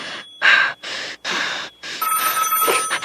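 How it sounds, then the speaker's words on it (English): A telephone rings in repeated bursts, four evenly spaced rings with short silent gaps, then a longer continuous tone, loud and close. "Hello, stop ringing me, do you hear?"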